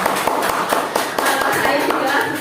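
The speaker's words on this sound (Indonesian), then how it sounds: "Anak-anak berikan tepuk tangan untuk teman-temannya." Schoolchildren clapping for their classmates, a steady ragged applause with distinct sharp claps standing out, fairly close and loud.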